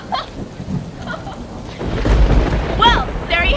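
A thunderstorm sound effect plays a deep rumble of thunder under the steady hiss of rain, rising in loudness partway through over a few seconds, with some faint voices mixed in.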